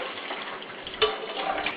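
Mung beans being washed in water, a steady close-up swish and slosh lasting under two seconds with a small splash partway through, no voices.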